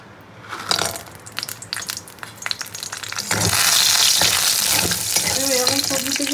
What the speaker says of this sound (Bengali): তার জন্য আগে কিন্তু বড়িটাকে ভেজে নেব।